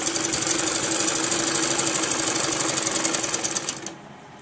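Electric sewing machine running a steady stitch to join the back and front panels of a Patiala salwar, whirring continuously and close before stopping abruptly near the end.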